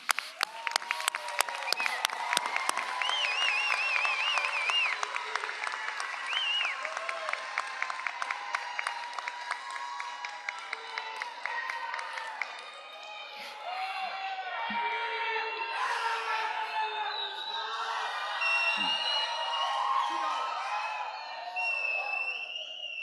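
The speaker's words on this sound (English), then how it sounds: "Graduates, stand up, turn around, and let's give them a round of applause." Graduates at a commencement ceremony applaud and cheer for their families, a long, loud, sustained roar of clapping with whoops, gradually easing while voices carry on over the crowd.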